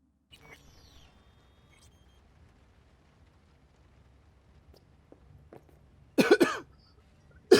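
A character in Cyberpunk 2077 gives a sharp, close cough burst near the end, after a long stretch of quiet game ambience with faint scattered clicks.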